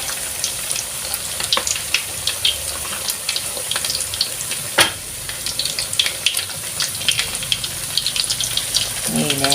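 Chicken pieces fry in hot oil that spits and splatters, giving a loud, continuous crackling sizzle with sharp pops throughout. A person speaks briefly over it.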